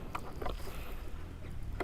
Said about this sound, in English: So this is very refined, very smooth exhaust note.